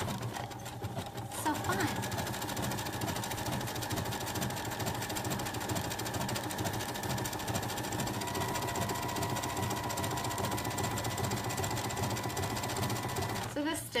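Close and steady, a sewing machine runs a mock cover stitch along knit joggers, whirring continuously for most of the stretch while a voice talks briefly over it.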